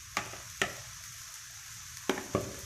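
Sauce-marinated pork belly cooks in a pan on a home stove over low heat, giving a quiet soft sizzle broken by a few sharp utensil taps and scrapes, close by with no talking.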